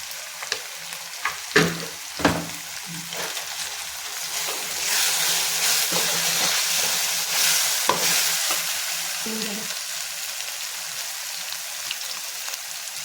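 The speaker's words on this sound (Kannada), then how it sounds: "ಇದನ್ನು ಸ್ವಲ್ಪ ಗರಂ ಮಸಾಲ, ಸ್ವಲ್ಪ ಧನಿಯಾ, ಇಷ್ಟು ಹಾಕಿ ಮತ್ತೆ ಫ್ರೈ ಮಾಡ್ಕೊಳ್ಳಿ" Masala frying in a pan with garam masala and coriander powder stirred in, a steady loud sizzle with a few sharp spoon scrapes and clinks near the start.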